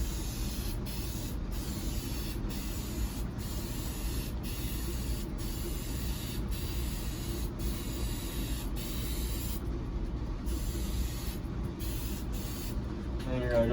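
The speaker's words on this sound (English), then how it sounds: "you're going to take your color, which is the base coat, and then you're going to lightly spray it on there." An aerosol or spray gun lays red base coat on a car's repaired dent panel, giving a steady, close hiss that runs almost unbroken, punctuated by short regular gaps between passes.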